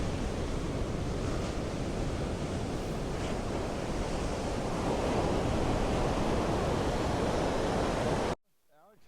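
Small, clean ocean waves wash onto a black sand beach in a steady, close roar of surf with wind buffeting the microphone, cutting off abruptly near the end.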